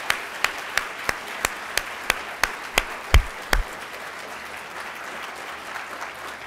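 A small audience at a university honors college symposium gives faculty members a brief round of applause: a short run of evenly spaced, crisp claps that thins out after a few seconds into quiet room ambience.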